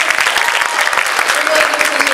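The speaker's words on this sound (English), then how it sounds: "So if you could, just go ahead and give them a round of applause." Audience applause at a county fair queen pageant honoring the judges, a dense steady patter of many hands clapping at close range with scattered voices mixed in.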